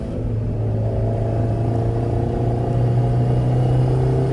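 A car drives on a road at sunset, following close behind another vehicle, giving a steady low engine rumble and road noise throughout with no talking.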